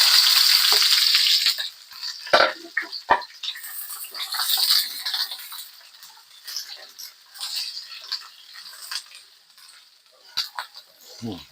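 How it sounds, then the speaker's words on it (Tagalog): Sliced onions hit a hot pan for a pork steak, giving a loud hiss of sautéing at the start that drops quickly, followed by scattered clinks and scraping of a utensil against the pan over quieter sizzling. "Gisa muna natin tong sibuyas."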